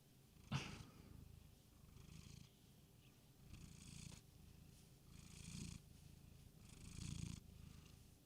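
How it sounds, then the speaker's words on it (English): Cat purring close by in a quiet room, a soft rhythmic rumble that swells with each breath in steady cycles, with one brief louder snort near the start. "Not sure if you heard him saying meow, meow,"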